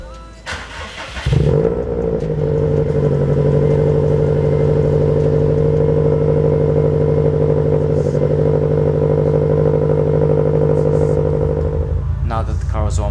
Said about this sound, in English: Here's a cold start for you to enjoy.